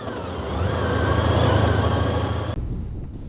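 Motorcycles pulling away after refuelling on a road trip, a loud engine drone rising and holding steady close by, then cutting off abruptly near the end, with no talking.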